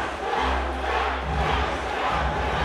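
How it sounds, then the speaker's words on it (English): Plymouth crowd at a Cage Titans MMA event roars and cheers for a fighter, a continuous dense wall of crowd noise with a swell of shouting partway through. "A lot of love being shown for this young man by this Plymouth crowd."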